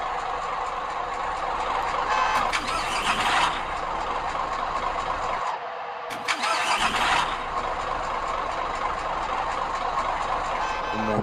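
A large diesel engine of a Hino truck in the bus simulator game BUSSID cranks and catches, then settles into a steady, loud idle that runs throughout.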